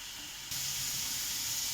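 Water poured into a hot pan of thin green mango curry with turmeric, a soft hiss that jumps into a steady, louder sizzle partway through, close and brief.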